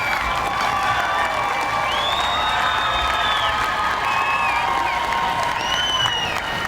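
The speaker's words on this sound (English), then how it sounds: "Please rise and give them a round of applause." A standing graduation audience applauds and cheers in a large hall, with dense steady clapping, whoops and shouts all the way through, loud and close.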